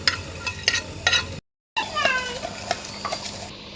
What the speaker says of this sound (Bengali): মশলাগুলো সব একসাথে আমি একটু বেজে নেব